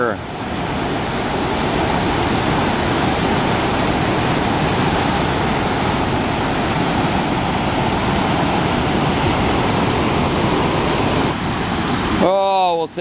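Misty Menominee River rushing on a cool fall morning, a steady, loud wash of flowing water that fills the whole stretch without letup, with a brief burst of voice-like tones at the very end.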